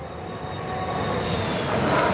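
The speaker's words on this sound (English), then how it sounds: "Listen to the jet engine." A jet-engine aircraft passes over a racetrack, a loud steady roar that swells gradually as it approaches, with no talk over it.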